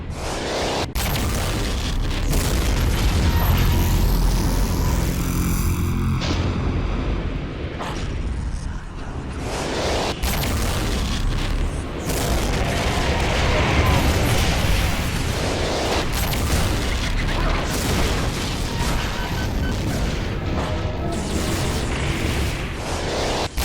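Enraged BFG from the Doom mod God Complex fired as a line blast: continuous heavy, booming energy blasts and explosions, loud and dense throughout with brief dips, as in frantic shooter gameplay with no talking.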